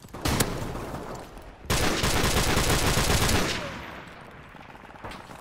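Rapid automatic gunfire from a video game bursts out loud and close, with a short pause before a long sustained volley that gradually fades.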